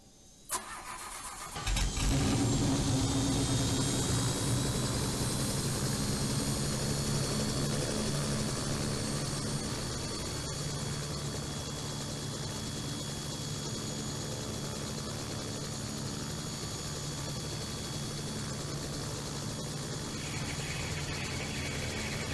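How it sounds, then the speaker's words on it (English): A helicopter engine starting up in a flight simulator game: after a brief quiet moment the turbine and rotor spool in abruptly and settle into a loud, steady whine and drone that continues for the rest. "But first, turn the helicopter on."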